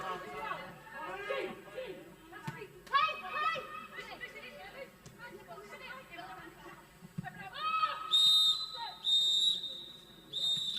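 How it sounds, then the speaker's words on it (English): A referee blows the half-time whistle at a women's football match between Birmingham City and Manchester United. It gives a few loud, shrill blasts, the last one longer, over a commentator's voice and distant crowd chatter. "And that is the half-time whistle."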